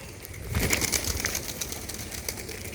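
Red pigeons give soft cooing calls with light rustles and wing flaps close by, steady throughout with no talking.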